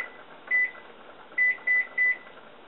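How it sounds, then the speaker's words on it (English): A kitchen timer is set to 30 minutes and started while Brussels sprouts cook: four sharp electronic beeps, one on its own and then three in quick succession, close and clear over faint room noise. "So we're going to put the kitchen timer on 30 minutes"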